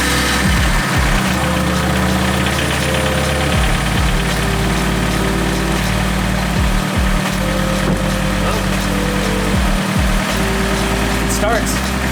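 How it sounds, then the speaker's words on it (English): A car engine runs steadily at idle throughout, a loud, close, continuous low rumble with slight roughness and occasional brief dips, under a faint voice. "I'm going to go ahead and start the car"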